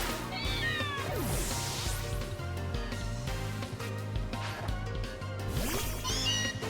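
Alolan Meowth's cry in Pokemon Legends Z-A, a pair of short rising-and-falling cat-like meows near the start and again near the end, heard over steady background game music.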